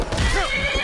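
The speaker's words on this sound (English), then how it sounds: "Stupid horse." A horse in the video game Skyrim lets out a loud, close whinny with rising and falling pitch, hooves faintly clopping beneath.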